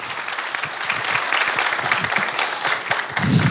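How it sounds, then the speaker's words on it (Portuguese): A crowd claps steadily throughout, dense applause filling the room with no voices rising above it. "Salve de palmas, Padre Ludigério."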